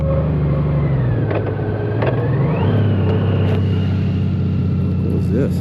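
A Honda Goldwing motorcycle engine drones on a highway after a downshift, with a steady low rumble and a rising pitch as it pulls, heavy wind noise around it, and no talking.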